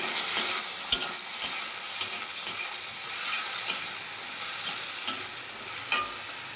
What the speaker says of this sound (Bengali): এই যে মোচার চচ্চড়ি হবে বলে বেগুনটাকে নেড়ে নিচ্ছি